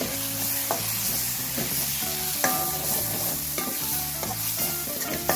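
Chicken masala sizzling steadily in oil in a pan as a spoon stirs it, with repeated scraping strokes in a regular rhythm over a constant close frying hiss.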